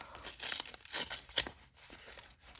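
A small paper envelope from a scrapbooking kit is torn open and handled up close, giving several quick ripping and crinkling bursts with no one talking.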